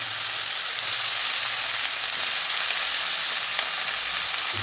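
Chopped brinjal fries in a pan with sautéed onion and tomato, giving a loud, continuous sizzle with steady hissing and no talking.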